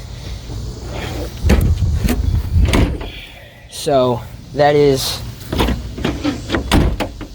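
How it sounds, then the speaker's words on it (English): A car's fuel door is pulled open by a release, giving a few sharp clicks and light mechanical thumps. Someone speaks briefly nearby. "let me pull this, because that opens my gas door"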